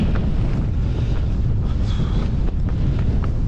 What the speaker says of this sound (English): Really windy though.